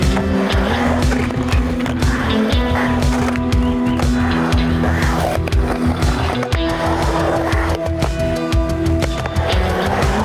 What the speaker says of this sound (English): let's jump in the bowl, really try to press these trucks a little bit further.